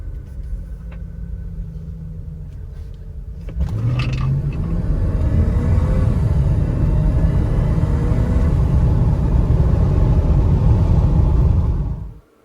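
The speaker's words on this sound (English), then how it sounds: "And this here is full throttle acceleration." A Mercedes M113 V8 engine with an accelerator fault revs under full-throttle acceleration, a steady low rumble that swells louder partway through and holds before cutting off, heard close with no talk.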